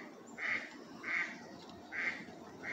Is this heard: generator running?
no